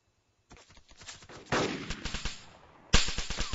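Video game gunfire from a tactical war match: rapid bursts of automatic shots, a quieter volley first, then louder, closer rattling strings of fire that stop and restart, with no talking.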